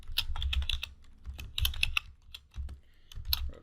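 Close, fairly quiet typing on a computer keyboard, irregular clusters of quick key clicks broken by short pauses, with no speech.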